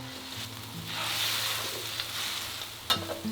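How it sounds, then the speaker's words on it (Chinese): Braised pork belly and its sauce sizzle in a hot pan while being stirred. The frying hiss is steady and close, with a low hum underneath and a sharp clack near the end. "这时候把料汁倒进来，下刚刚炒好的五花肉。"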